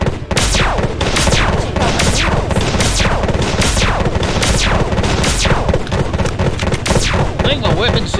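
Weapon system firing in the game Planet Explorers: loud, rapid, repeated booming shots at roughly one per half-second, each with a sweeping falling tail, continuing steadily throughout.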